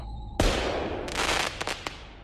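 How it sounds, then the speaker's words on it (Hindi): A firework rocket explodes inside a ruined temple with one sharp, heavy bang, then a burst of crackling pops and snaps that fades within about two seconds. "रॉकेट में आग लगते ही वो रॉकेट प्रेशर से नीचे गिर गया और सीधा उस खंडर हुए मंदिर के अंदर जाकर फट गया।"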